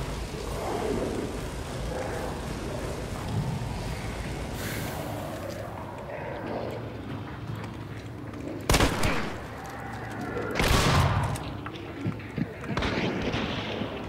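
Gunfire in the video game Hunt: Showdown, with a few sharp shots standing out over a busy background of game ambience and talk.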